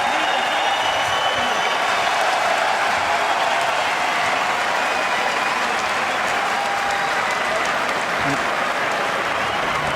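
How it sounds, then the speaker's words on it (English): A dense arena crowd in Boston claps and cheers loudly and continuously near the end of a UFC fight, a thick unbroken roar of applause throughout. "So the crowd responding here down the stretch."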